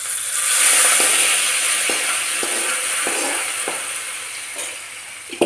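Dried red chilies and onion sizzle and fry steadily in hot oil for a curry tempering, a continuous close crackle with a few faint clicks of a utensil and no talking.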